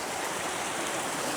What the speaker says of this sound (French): Et voilà, la cascade.